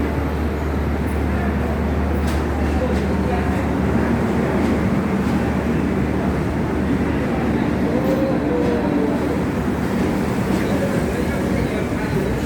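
A train at Katpadi Junction railway station produces a steady, dense rumble and hiss of rolling stock, continuous and fairly loud throughout with no clear breaks.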